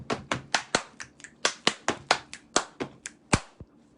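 A fast rhythmic pattern of sharp hand claps, finger snaps and knee slaps, around a dozen crisp hits in quick succession, close and dry with no talking.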